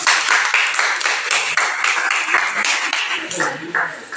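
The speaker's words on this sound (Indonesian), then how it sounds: "Kita tepuk tangan dulu untuk mereka." Schoolchildren in a classroom clap their hands for classmates, a lively burst of rhythmic, fairly close clapping with a few voices mixed in.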